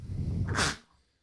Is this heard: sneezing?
yes